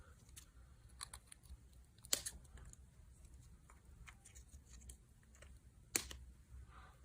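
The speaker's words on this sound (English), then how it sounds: "I want you to snip away 2 leaves." Scissors snip leaves off paper greenery in a quiet craft session, giving a few faint, sparse clicks and two sharper cuts against soft background hiss.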